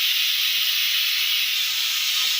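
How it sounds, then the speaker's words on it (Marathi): Continuous loud hiss of steam escaping from a pressure cooker whistle, steady and close, with no other sounds. "ते कुकर बंद कर काय होते शिट्टी वाजू राहिली"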